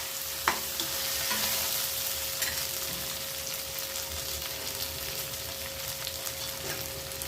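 Grated ginger sautés in a hot pan for a paneer dish, giving a steady, close sizzle with a sharp clack of a stirring utensil early on and occasional scraping, no talking.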